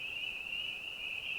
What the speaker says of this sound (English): it is just a chorus of frogs out there